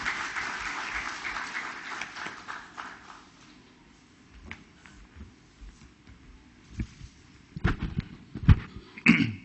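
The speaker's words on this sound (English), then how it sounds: "Ladies and gentlemen, a round of applause for our guest of honor, Dr. H.O. Thackeray sir." Audience applause for a guest of honor at a safety convention, starting as moderate clapping that thins into scattered claps and rustle, then a few louder close claps and knocks near the end.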